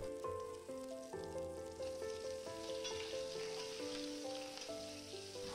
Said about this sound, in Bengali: তেলটা গরম হয়ে গেলে বেগুনগুলোকে ভেজে নেব।